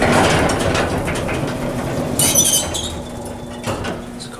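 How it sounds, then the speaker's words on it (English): A vintage Westinghouse hydraulic elevator runs with a close mechanical rumble and low hum, joined by a brief higher metallic clatter midway and another soft clunk near the end, with no voices. "we got a vintage Westinghouse elevator here"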